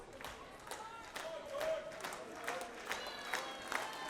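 A crowd at a PPW wrestling show cheers and claps behind the champion during a cruiserweight title match, a diffuse roar with scattered claps running under a commentator's steady talk.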